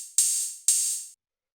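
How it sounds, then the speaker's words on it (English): Two crisp drum-machine hi-hat hits on the upbeats in a house beat, each a bright, hissy burst that rings out for about half a second before stopping, with nothing else underneath. "It's a simple sort of like drum machine style hi-hat"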